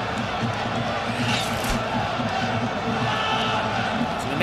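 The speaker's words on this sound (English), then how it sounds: "and the crowd once again roars for that." A large arena crowd at a heavyweight boxing match between Vitali Klitschko and Tomasz Adamek keeps up a steady roar with cheering, continuous and moderately loud from start to finish.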